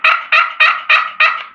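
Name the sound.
turkey box call being played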